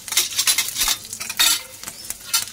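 Coconut and chilies toasting in a pan for misal: a close, loud sizzle broken by repeated spatula scrapes and stirring clatter against the pan, with no talking.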